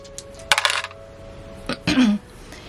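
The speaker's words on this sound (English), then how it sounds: "I decided I was gonna use Tupperware to roll my dice." Dice tumble inside a plastic Tupperware container in two bursts of rattling clatter, each a quick flurry of hard hits against the plastic ending in a brief ringing spin, close and alone.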